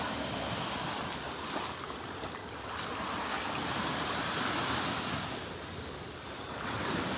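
Ocean waves break steadily on a beach in North Naples, Florida, a continuous near surf wash with gentle swells in intensity and some wind noise, no voices.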